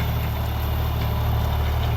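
A John Deere Gear Pro tractor engine runs steadily nearby, a continuous low diesel idle with a faint rhythmic knock and no talking.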